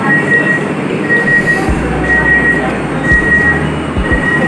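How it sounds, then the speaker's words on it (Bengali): An air-conditioned suburban local train at a station sounds repeated electronic warning beeps, then its doors close with low thuds, over a loud steady rumble of the carriage. "এখন এই সিটের দরজাটা বন্ধ হবে"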